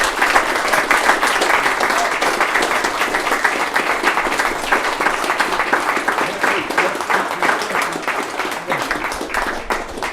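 An audience at an afternoon of Irish music in London applauds a performer, a dense, sustained round of clapping that stays loud and even throughout.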